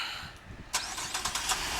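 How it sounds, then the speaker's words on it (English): A 2009 Saturn Outlook XR engine, started by remote start, cranks and catches, with sharp bursts of starter noise settling into a steady running rumble, heard from nearby with no talking. "and the car starts right up."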